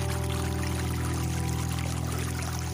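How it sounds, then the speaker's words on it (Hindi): Dam water released in a rush, a loud, steady roar of pouring and flowing water that holds unbroken throughout, with no voices. "सेठ मनीराम ने बांध का पानी छोड़ दिया है।"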